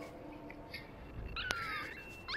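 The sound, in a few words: dog whimpering in video game Never Alone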